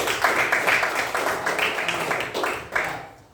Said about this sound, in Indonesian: Baik, tepuk tangan buat Natalia.